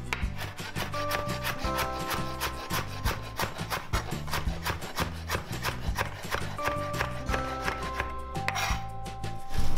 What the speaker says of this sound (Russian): Теперь, ребят, режем укроп.